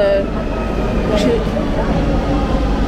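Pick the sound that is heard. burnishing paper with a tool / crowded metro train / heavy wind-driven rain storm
crowded metro train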